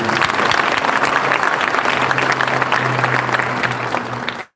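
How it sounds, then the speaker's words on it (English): A memorial gathering audience claps for two boys, a dense and loud round of applause that holds steady and then stops abruptly at the end. "Let's give these two boys a big clap."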